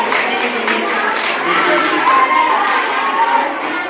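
Students at a school geography quiz competition raise a loud, sustained roar of cheering and shouting from a crowd of children, continuous and lively throughout.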